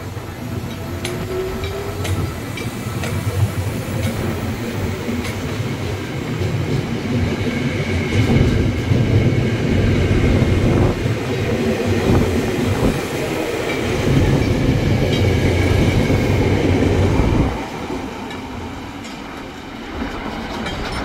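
KRL commuter trains, JR 205 and TM 600 sets, moving through Manggarai station's upper level, a loud continuous rumble and rattle of wheels on rails that eases off near the end, no talk.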